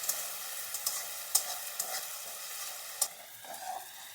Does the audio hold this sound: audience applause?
no